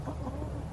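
Backyard chickens, including Asian black hens, give soft, faint clucks at a steady low level with no talking.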